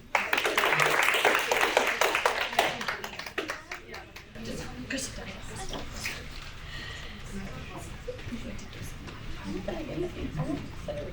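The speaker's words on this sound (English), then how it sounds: "applause for our next contestant after that?" An audience at a university poetry slam applauding the next contestant, a burst of clapping that fades after a few seconds, followed by quieter room noise and talking.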